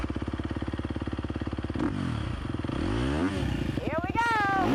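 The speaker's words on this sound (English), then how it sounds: "just rev it up a few times." A racing motorbike engine idles with a rapid, steady low throb, then revs up several times in loud rising and falling sweeps, the final rev climbing highest and closest.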